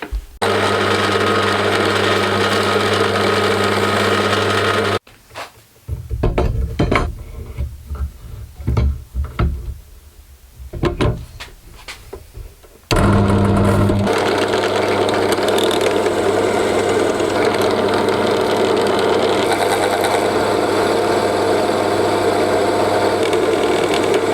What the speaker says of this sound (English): the problem is just getting the drill bit started and not pulling off